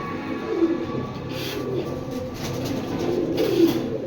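A big red khaki male pigeon gives a couple of low cooing calls, near and moderately loud, over a murmur of background noise.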